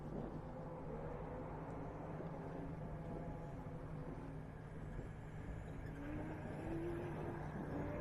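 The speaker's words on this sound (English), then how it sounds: "I can hear cars everywhere" Race cars lapping the track at The Gap 440 in Griffith, a steady, distant engine drone with faint passing whines rising and falling, and no voices over it.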